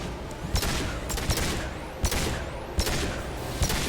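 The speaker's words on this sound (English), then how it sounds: "Stop shooting, Shepard." Bursts of gunfire from Mass Effect Legendary Edition combat, sharp repeated volleys about every half second to second over a dense, steady battle din, loud and continuous with no talking.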